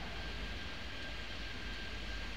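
Airliner engines roaring during a takeoff in the Airport Madness 3D airport game, set at LAX: a steady, faint broadband jet rumble with a thin constant whine that carries through the whole stretch and does not change.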